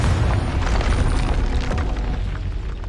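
A Confringo blasting-curse explosion in Hogwarts Legacy, a loud dense rumbling boom that fills the moment and rolls on steadily for a few seconds without pause.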